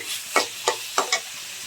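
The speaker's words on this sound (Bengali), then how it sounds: "রসুন প্রায় একটা গোটা ছিলে দিয়ে দিয়েছি। এটাকে একটু বাদামি করে ভেজে" Whole peeled garlic cloves frying in a pan until browned, a faint steady sizzle broken by four short scraping stirs, close by with no voices.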